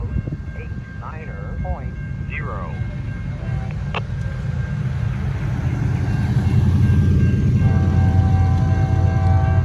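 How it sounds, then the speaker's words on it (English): A heavy low rumble builds and grows louder as a northbound train approaches and passes nearby in downtown Walton, with faint birdsong early on. "we got a train coming. Northbound."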